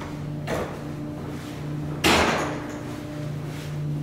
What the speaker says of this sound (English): We'll watch the doors on it shut.